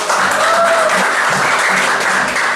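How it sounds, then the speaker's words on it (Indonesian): A classroom of pupils claps together on the teacher's cue, loud close-up applause with a few rhythmic pulses of unison clapping running under it throughout. "tepuk tangan dulu"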